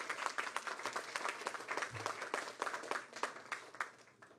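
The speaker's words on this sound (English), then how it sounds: "I'll let her know that you stopped me so that you could applaud" An audience at a mayoral press briefing on affordability and housing claps steadily, a dense run of many hands that stays fairly even throughout with no voices on top.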